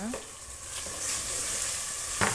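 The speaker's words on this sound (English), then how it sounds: "Then I've grated my ginger and garlic. I'm gonna be frying them together." Small-diced tomatoes with grated ginger and garlic fry in a pan for a Kenyan pilau. A steady close sizzle runs throughout with light stirring scrapes and no talking.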